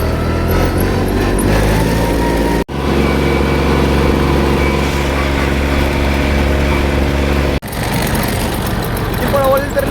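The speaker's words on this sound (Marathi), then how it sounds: "येते बघा ट्रॅक्टर." A tractor engine runs loud and close with a steady low chugging drone, briefly cut twice, while people talk over it.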